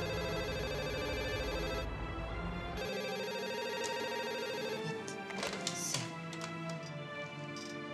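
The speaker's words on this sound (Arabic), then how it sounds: "ثانيه اهو التليفون بيرن" A telephone rings in a scene from a Kuwaiti TV drama series, giving a clear electronic ringtone with a repeating melodic tone pattern over a quiet indoor background.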